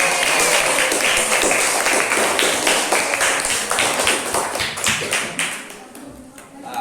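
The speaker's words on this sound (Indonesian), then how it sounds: "semuanya tepuk tangan" Students in a madrasah aliyah Islamic history lesson applaud as a group, a dense, steady patter of clapping that holds for several seconds and then thins out, with some voices mixed in.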